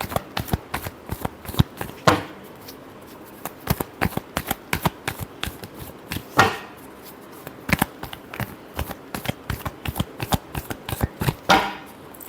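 A tarot deck is shuffled by hand in a reading, a fast run of crisp riffling card snaps with a few louder slaps, close and continuous.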